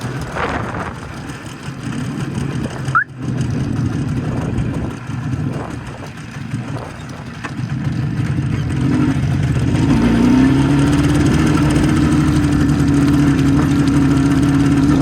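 An IZh Jupiter 5 motorcycle engine with a new piston runs steadily while riding, a loud, continuous mid-low drone that settles into a higher, even pitch as the bike rolls along, with no speech.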